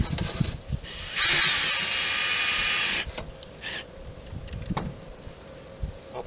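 Power drill driving a non-self-tapping screw into aluminum, one close whirring run of about two seconds, followed by quieter handling knocks and a short second buzz.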